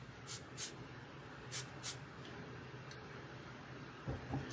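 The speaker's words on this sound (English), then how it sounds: "Let me spray the other side." Several short bursts of a hand spray bottle misting sections of hair during a deep-treatment hair session, brief spritzes spaced apart over a steady background murmur.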